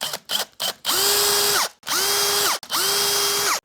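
A pillar drill runs in three sustained bursts, each with a rising whine that levels off and then drops away, loud and close, with short clicks and knocks before the first burst.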